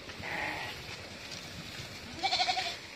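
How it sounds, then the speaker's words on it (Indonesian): Goats and sheep bleat in a village pen, one short bleat early and a louder wavering bleat near the end, over faint background noise. "ini kambing dombanya, kambing putih ya, di desa ini guys"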